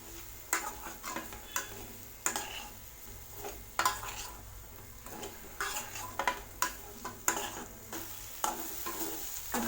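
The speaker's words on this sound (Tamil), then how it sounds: "கத்திரிக்காய் சேர்த்துட்டு இதை நல்லா மிக்ஸ் பண்ணி வதக்கி விட்டுக்கோங்க." Brinjal cooked with masala in a pan is stirred and sautéed, a spoon scraping and clacking against the pan in irregular strokes over a soft, steady sizzle, close and fairly quiet with no talking.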